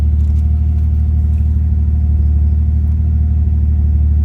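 A 2002 Isuzu Dragon Eye pickup with a 2.5-litre Toyota 1JZ-GTE VVTi turbo engine tuned for E20 fuel idles nearby, a steady, even rumble, low and constant, with no revving or changes in pitch.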